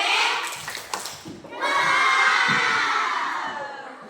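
A classroom full of children shout together in a loud burst, pause briefly, then erupt again into a sustained cheering clap chant.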